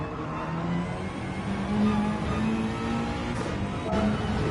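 A front-wheel-drive GR4 race car at Bathurst holds steady throttle in fourth gear in a racing game, its engine giving a continuous even drone with a slight rise partway through.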